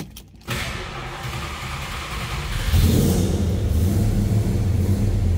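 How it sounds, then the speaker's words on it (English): A 1968 Plymouth GTX V8 with an Edelbrock 4-barrel intake cranks briefly, then fires and settles into a loud, steady rumbling run that deepens after a few seconds, with no talking. "Let's fire this up so we can hear it run."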